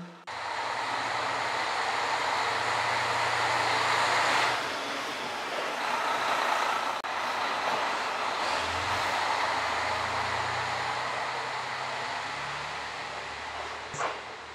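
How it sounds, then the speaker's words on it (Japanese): A JR Hokkaido KiHa 54 series diesel railcar idles at Nemuro Station on the Hanasaki Line, a steady low engine drone and broadband rumble holding throughout, with a brief sharp knock near the end. "5時31分発普通列車釧路行きを見送ります。 朝日に照らされたキハ54系、とっても綺麗ですね。"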